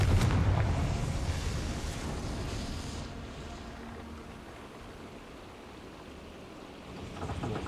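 A Confringo fire spell in Hogwarts Legacy bursts into a loud, rumbling explosion at the start, then fades into a long, dull roar that dies away.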